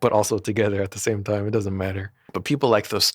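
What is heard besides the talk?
None of the usual background noises is heard.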